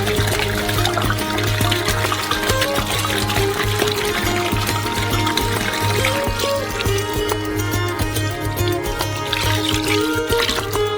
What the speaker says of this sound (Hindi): जब सब कुछ अच्छी तरह से उभारा जाता है तो शेष पानी डालेंगे।